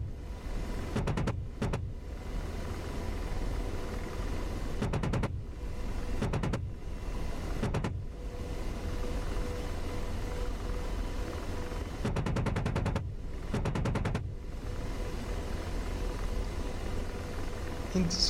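An AH-64D Apache's cannon fires at trucks in the DCS World flight simulator, several short, loud bursts of rapid gunfire, spaced apart, over a steady helicopter drone.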